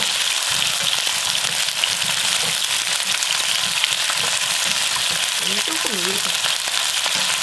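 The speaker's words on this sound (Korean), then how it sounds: "이렇게 하면 고루고루 튀겨지는 거 기름에" Chicken drumettes deep-frying in oil give a steady, dense, loud crackling sizzle throughout, with a brief word spoken over it.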